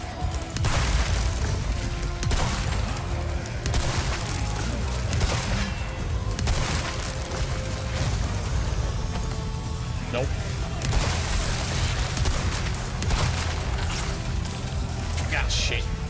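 Rapid gunfire bursts from Resident Evil 4 Remake's Mercenaries mode, set in the castle stage, crackle loudly and nearly nonstop amid booming impacts and game noise, with a player talking over the action.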